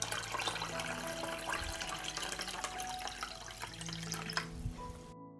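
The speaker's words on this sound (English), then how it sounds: "I pour water up to the height of the lid." Water running from a tap or poured into a cooking pan holding glass jars set on a cloth, ahead of pasteurizing; a steady close splashing and trickling fill that goes on without pause and with no talk.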